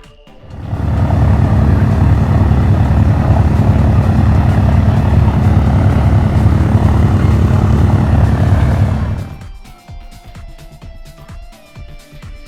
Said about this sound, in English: now I'm going to show you a recording that I made of the B-29